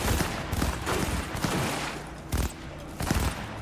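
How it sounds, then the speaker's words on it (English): Rapid bursts of gunfire in Cyberpunk 2077 during a firefight, dense overlapping shots and volleys crackling continuously with sharper peaks standing out, loud and close with no talk. "Who's shooting me?"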